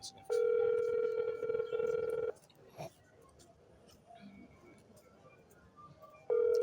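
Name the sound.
telephone ringing on an outgoing call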